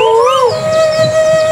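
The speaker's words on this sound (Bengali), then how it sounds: "এই পাখির ডাক কতদিন ধরে যে শুনিনি" A single bird call at an old village market: a loud, sustained, slightly wavering tone that holds steady for over a second against faint background noise.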